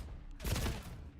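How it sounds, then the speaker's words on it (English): A grenade blast in Call of Duty, a sudden broadband burst that swells and lingers for under a second before fading into low game rumble, alone with no talk. "Big nade."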